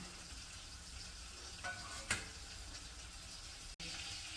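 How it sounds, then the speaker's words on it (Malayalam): Fish sizzle steadily in hot oil, a soft continuous crackle with a couple of faint clinks, heard close and with no voices. "ഒരടുപ്പി നാല് നാല് മത്തി വറക്കാനിട്ടിട്ടുണ്ട്"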